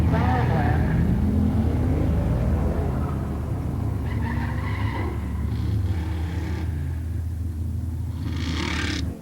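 A 1968 Pontiac Firebird 400 Ram Air four-speed and a 1969 Cougar Eliminator 428 CJ launch in a pure stock drag race, a loud sustained engine roar with tire squeal, while an announcer talks over the noise.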